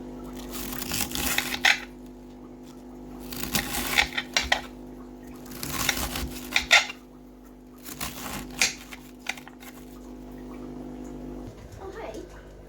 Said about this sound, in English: let's start by dicing this up